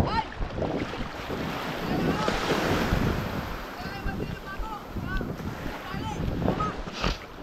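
Waves slosh and break around a small boat out at sea, with steady wind buffeting the microphone and people talking over the water.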